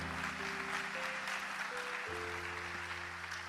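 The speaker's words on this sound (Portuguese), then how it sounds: "Você pode aplaudir o Senhor por isso?" Congregation applauding the Lord during a church sermon: faint, steady clapping washes beneath sustained keyboard chords that shift pitch partway through.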